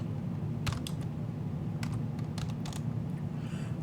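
Computer keyboard typing a Linux chmod command: a few quick keystroke clusters over a steady low background hum, close and fairly light.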